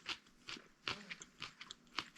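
Raw, crunchy kohlrabi is bitten and chewed in a run of sharp, close crunches at an irregular rhythm, quiet overall with no talking.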